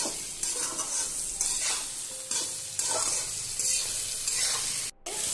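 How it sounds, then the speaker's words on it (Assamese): Ground spices and Kashmiri chilli powder fry in hot oil for a chicken curry, giving a steady close sizzle with repeated scraping strokes of stirring throughout and a brief break near the end. No speech. "এতিয়া কমচে কম 3-4 মিনিট মই ভালকৈ ভাজি লওঁ।"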